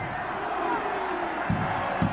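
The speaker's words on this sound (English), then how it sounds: "Crowd getting involved." A college football stadium crowd at Georgia Southern versus Wofford gets involved on a third down, a broad murmuring roar with scattered shouts. A commentator talks over it.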